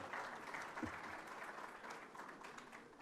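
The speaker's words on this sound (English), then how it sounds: "Je vous prie d'applaudir, s'il vous plaît." Faint, distant applause at a summit for African heads of state and government, a soft continuous patter of many hands throughout.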